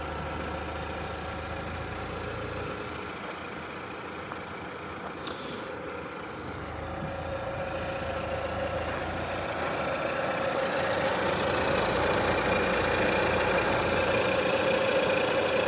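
A Renault Clio 3 GT's 1.6-litre, 128-horsepower four-cylinder petrol engine runs at a steady idle close by, its low hum swelling a little louder in the second half.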